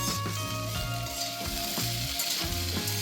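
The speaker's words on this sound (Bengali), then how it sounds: "আলু ভাজা হচ্ছে" Steady sizzle of potatoes frying with spices in a pan, constant and fairly close, with tuneful music playing underneath the whole time.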